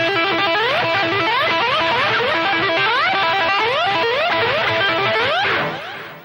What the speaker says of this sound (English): I'm going to show you a little a lick now which uses what we call a trill with the left hand in combination with a slide